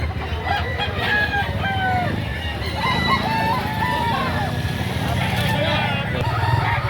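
Roosters crow repeatedly at a busy Saturday chicken market, several calls overlapping nearby amid clucking and a general crowd murmur, with people talking throughout.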